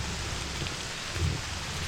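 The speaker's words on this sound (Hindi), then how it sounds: "रास्ते में बारिश शुरू हो गई और मैं पूरा का पूरा भीग गया" Rain falls steadily and densely as a broadband hiss with soft patters on a surface. A low rumble rises briefly in the middle, and no one speaks.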